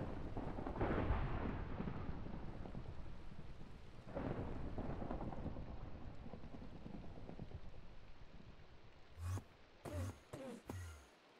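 Rain and rolling thunder from the Minecraft video game, a heavy storm rumble swelling at the start and again around four seconds over steady rainfall, followed by a few short, sharp bursts near the end.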